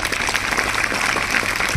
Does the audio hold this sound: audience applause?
yes